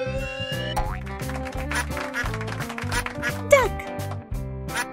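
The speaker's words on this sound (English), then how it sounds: "Duck!" A duck quacks in a children's farm-animal cartoon, the call mixed into bright, bouncy background music with a springy boing partway through.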